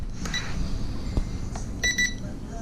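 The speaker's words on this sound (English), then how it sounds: "when it beeps, it is connected" A pair of short, high electronic beeps from a Sharper Image drone controller sounds near the end as it connects, with a fainter chirp earlier, over a steady low rumble of background noise.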